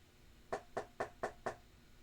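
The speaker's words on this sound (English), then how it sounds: "suddenly you hear a small knock." Five small, evenly spaced knocks thud against a wall, soft and dull, with quiet room tone in between.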